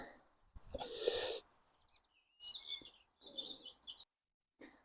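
A robin calls outdoors in several short bursts of high chirping and warbling phrases separated by pauses, fairly faint and distant, with a brief louder rustle or knock near the start and no talking.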